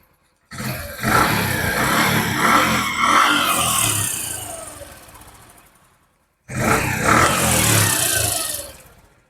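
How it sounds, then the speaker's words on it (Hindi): A Bajaj CT 100 motorcycle engine runs close and loud in two sustained stretches, a roaring drone that fades before a silent gap and then returns. "तो बाइक को करते हैं स्टार्ट, देखते हैं किस तरह से साउंड आ रहा है।"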